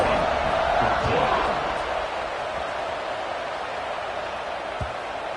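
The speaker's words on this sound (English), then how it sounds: "this crowd is buzzing after that last score" Stadium crowd at a Texas Tech football game keeps up a steady, dense roar after a score, loudest at first and then settling into a sustained buzz with a couple of brief thumps.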